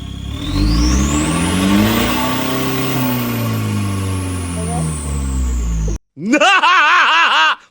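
A Toyota Revo pickup engine revs up to about 4000 rpm and holds there, a loud, steady, rising drone for about six seconds, then cuts out briefly before a short, wavering burst of revving.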